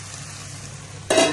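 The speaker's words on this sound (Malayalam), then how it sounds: "പച്ചമുളകിന്റെയും ഇഞ്ചിയുടെയും വെളുത്തുള്ളിയുടെയും ഒരു പച്ചമണം മാറുന്നത് വരെ നമുക്കൊന്ന് ഇളക്കി കൊടുക്കാം" Green chilli, ginger and garlic fry in a pan for Thalassery chicken dum biryani: a quiet low hum, then a sudden close burst of sizzling and scraping as they are stirred.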